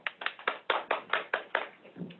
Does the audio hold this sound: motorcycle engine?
no